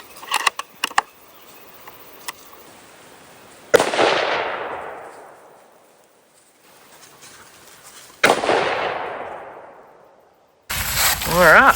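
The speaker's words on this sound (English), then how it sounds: "let's go back and shoot 2 more and see if we can get you a little tighter group" Two loud rifle shots ring out at a target on a deer hunt, each a sharp crack trailing into a long fading echo, with a few softer clicks beforehand and a burst of noise at the end.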